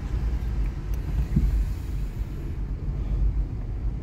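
Steady low rumble of a car engine heard from inside the moving vehicle as the driver gently presses the gas pedal during a driving lesson in city traffic, loud and continuous with no clear rise in pitch.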